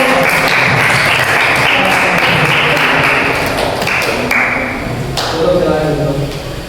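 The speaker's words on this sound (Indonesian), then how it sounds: "Ya, beri tepuk tangan untuk" Audience applause in a classroom group presentation, a dense wash of clapping that holds steady and fades slightly toward the end, with some voices mixed in.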